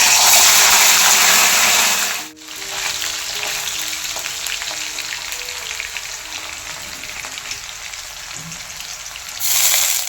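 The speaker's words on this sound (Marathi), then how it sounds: "सर्वप्रथम आपण पनीर फ्राय करून घेऊ." Paneer cubes frying in hot oil in a pan for a cashew paneer masala curry, giving a steady, loud broadband sizzle throughout with a brief dip partway and a surge near the end, no voices.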